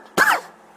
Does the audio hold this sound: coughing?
yes